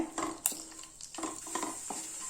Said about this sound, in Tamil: நெய் சூடானதும் முந்திரி பருப்பு திராட்சையை நம்ம வறுத்து எடுத்துக்கலாம்